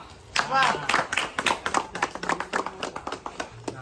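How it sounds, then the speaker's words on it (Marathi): A short burst of hand clapping from a small group at a street cricket tournament prize-giving, quick uneven claps fading after a few seconds, with voices mixed in. "टाळ्या"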